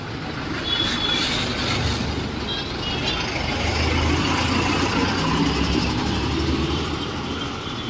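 A Kolkata metro train passes near a bridge as a steady, loud rumble with wheel noise and a high metallic squeal, continuous throughout without speech.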